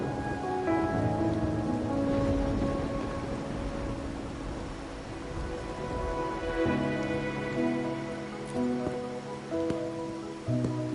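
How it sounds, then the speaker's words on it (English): Steady rain patters and hisses throughout in the video game Wuthering Waves, with a soft tonal melody playing underneath. "Or are you simply passing the time until the rain ends?"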